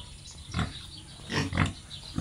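A native pig grunts in a few short, rough, low bursts at irregular intervals, close by and fairly loud, with no speech.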